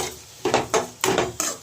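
Onions and green chillies are stirred into hot oil in a pan, with four or five close scraping strokes of a spoon over a soft sizzle.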